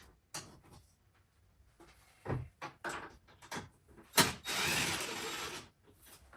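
Cordless DeWalt power tool spinning off 10 mm bolts during assembly of a Coleman AT 200-B ATV, with short bursts and clicks followed by a longer steady whir, close up and with no talk.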